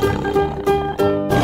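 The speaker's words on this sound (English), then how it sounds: "Tiger." Tiger roaring in short repeated bursts, a harsh, rasping growl pulsing about three times with brief gaps, loud and close.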